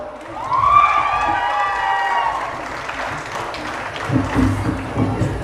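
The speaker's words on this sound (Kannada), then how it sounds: "ನಮ್ಮ ಕೃಷಿ ಮಹಾವಿದ್ಯಾಲಯದ ವಿದ್ಯಾರ್ಥಿಗಳಿಗೆ ಮತ್ತೊಮ್ಮೆ ಜೋರಾದ ಚಪ್ಪಾಳೆ" Applause from a crowd after a student cultural performance at an agriculture college fair in Mandya, a loud sustained clapping that swells and then thins toward the end.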